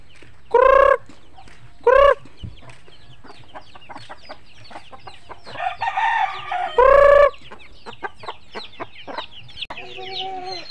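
Chickens clucking in a rural yard, including a hen settling on eggs, with a rooster crowing loudly twice early and once more midway; scattered close clucks and rustles fill the gaps, no talk heard.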